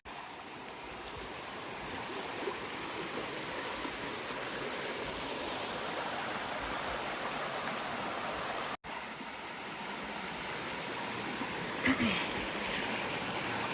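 Stream water flows steadily along the Appalachian Trail near Beauty Spot, an even rushing and babbling close to the listener with almost no change in level and one brief gap.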